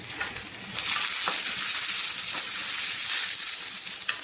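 Long green chili and red onion sauté in a wok-style pan with garlic, a steady crackling sizzle with occasional scraping stirs, fairly close and alone without talk.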